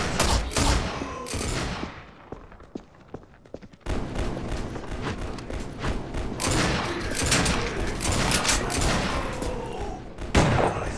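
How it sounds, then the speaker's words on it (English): A huge explosion followed by bursts of gunfire in the video game E.Y.E Divine Cybermancy, loud and dense, with a brief lull after the opening blast before heavy firing resumes. "Friendly with a huge explosion."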